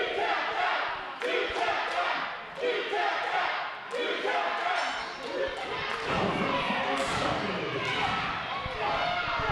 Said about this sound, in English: Our crowd reminding Scotty that he tapped out seconds ago